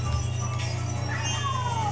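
A pet cat lets out a drawn-out meow, rising and then sliding down near the end, close by over a low steady hum.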